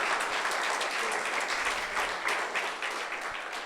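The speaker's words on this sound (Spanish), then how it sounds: "Así que demos un aplauso a nuestros hermanos." Sustained applause from an audience at a Spanish-language church conference, dense and steady throughout, closing a talk by visiting speakers.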